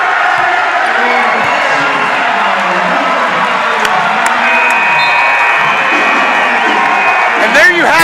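A home crowd cheers and whoops loudly and steadily after a college men's basketball win, Wheaton against Carroll University, with an arena roar filling the whole span and a few sharper shouts near the end.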